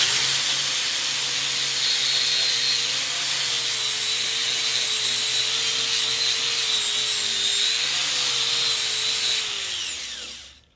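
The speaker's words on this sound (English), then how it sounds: "let's grind it down" An angle grinder grinds down small tack welds on steel joined with a MIG 140 welder, a loud, steady whine close by that holds for about ten seconds before spinning down, with no talking.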